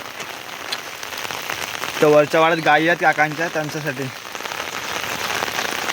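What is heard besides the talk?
steady drizzling rain in Konkan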